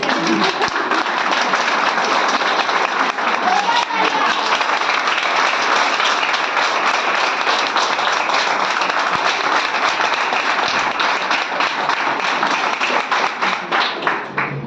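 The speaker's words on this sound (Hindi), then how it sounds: "पहले तो इन महानुभावों की ताली हो जाए।" A crowd gives sustained applause for honoured guests, an even wall of many hands clapping that stays loud and steady throughout, with no voices on top.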